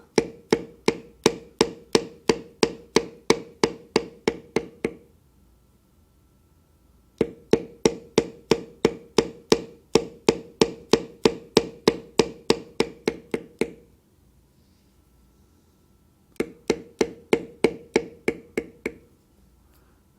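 Mallet tapping a metal beveler tool into leather while carving mallard duck feathers, in three runs of rapid, evenly spaced sharp knocks separated by brief quiet pauses, close and crisp.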